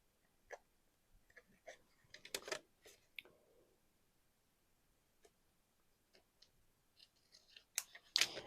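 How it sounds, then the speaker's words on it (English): Quiet, close snips of scissors trimming paper for a belly band page made from window envelopes, irregular small cuts with a cluster of louder snips near the end, no talking. "I'm just going to take my scissors and trim this off."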